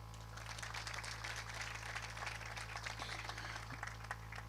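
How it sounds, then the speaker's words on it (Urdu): A church congregation in Pakistan claps together during a Sunday sermon, a dense, steady wash of many hands over a constant low hum, with no voices over it. "اس بات کے لیے ہم خدا کے حضور تالیاں بجائیں"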